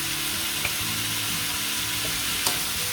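Stuffed bean sprout flowers are stir-fried with seasoning sauce in a pan: a loud, continuous sizzle with a few scraping stirs, close up and with no voices.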